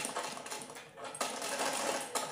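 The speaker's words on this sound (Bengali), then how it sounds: "এইখান থেকে আমি সেলাই করছি।" A sewing machine runs steadily for a few seconds, stitching fabric pieces for a handmade latkan fabric flower, with a close, continuous mechanical whirr that dips briefly in the middle before resuming.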